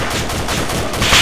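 Rapid gunfire in a police pursuit video game, a loud dense burst of automatic shots rattling continuously up close, rising slightly at the end, with no talk.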